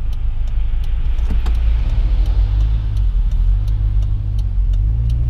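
A car pulling out and merging into traffic, a steady low engine rumble heard from inside the vehicle with faint clicks and a gentle swell in engine tone.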